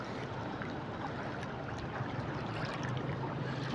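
Muddy floodwater rushing past near a village bridge, a steady broadband roar with no pauses, fairly faint and unbroken.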